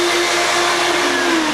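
A Ruwac industrial vacuum with a 2-inch bulk gulper nozzle and a 12-inch high-efficiency cyclone sucks material out of a container, making a loud, continuous roar with a steady whining tone throughout.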